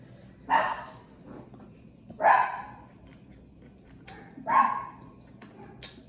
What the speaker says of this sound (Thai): หมาเห่านะคะ